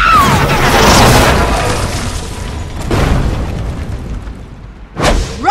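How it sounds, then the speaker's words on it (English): Rocket boosters fire in Tales from the Borderlands with a loud roaring blast that swells and fades, followed by further booming bursts, one sharp surge near the end. "Rocket boosters are go!"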